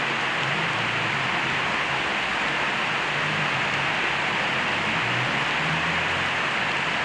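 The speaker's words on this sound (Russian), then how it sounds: "Вот такой вот ливень у нас в Кирове." A heavy summer downpour in Kirov during a thunderstorm, heard as a dense, unbroken hiss of rain that stays loud and even from start to finish, with no voices over it.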